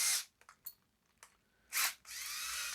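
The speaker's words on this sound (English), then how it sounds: "Just using my trusty drill" Short bursts of a handheld power drill whirring against rough cast metal while smoothing VW reverse manifolds on a 1956 Volkswagen Beetle, several brief blips then a longer sustained grinding run up close.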